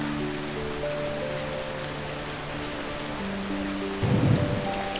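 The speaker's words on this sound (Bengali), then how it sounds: "টিনের চালের ওপর পড়ছে টুপটাপ বৃষ্টি।" Steady rain pattering on a tin roof in a quiet rural village, a dense continuous patter with a brief louder burst near the end, accompanied by soft sustained background music and no voices.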